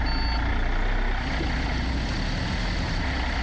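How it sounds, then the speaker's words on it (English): A semi truck in American Truck Simulator reverses into a parking spot with a continuous loud engine drone and a reversing alarm beeping under it, no talk. "I'll park this truck right now."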